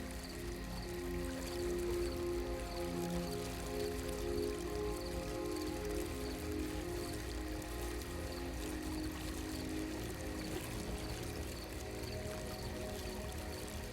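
Steady water falling into a shallow basin, a continuous soft splashing patter at moderate level with no voices, constant and unbroken throughout.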